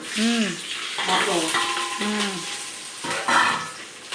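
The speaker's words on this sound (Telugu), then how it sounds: "తాలింపు వేస్తా ఉండారా గుంటూరు స్టైల్లోనా" Vegetables sizzle in a Guntur-style tempering with green chillies, a steady frying hiss with occasional stirring scrapes, while voices talk over it.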